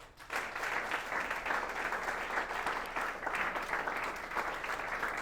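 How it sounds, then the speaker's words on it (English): Sustained applause from an audience at a school gathering, honoring a former student of Guru Nanak Foundation Public School, Patiala; dense, steady clapping throughout, fairly close and loud, with no speech over it. "Would you like to applaud for him?"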